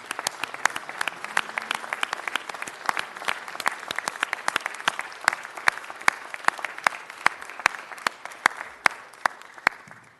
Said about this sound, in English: Let's give the Chief a round of applause.